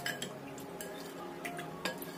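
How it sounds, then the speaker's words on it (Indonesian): A spoon stirs a tofu sauce mixture of pepper and water in a bowl, giving light, repeated clinks and scrapes against the sides in a short, steady run with no talking. "Kita aduk sampai tercampur rata."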